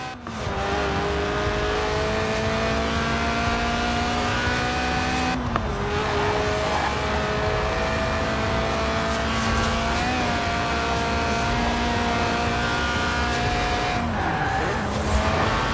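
Mid-engined Lotus Elise Sport 190, a tuned, stripped-out track-day roadster, driving in Forza Horizon 4: a steady engine drone rising and shifting through gears, with brief tyre noise, loud and continuous throughout.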